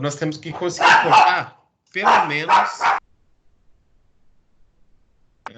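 A pet dog barks at neighbours walking past in an apartment building corridor: one sharp bark bursts in at the very end, after a stretch of a person talking and a short quiet gap.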